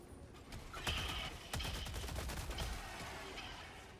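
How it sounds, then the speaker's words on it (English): Assault rifle fire in a video game comes as rapid bursts of gunshots with sharp cracks over a rumbling battle backdrop, moderately quiet overall. "I'm burning through my assault rifle ammo"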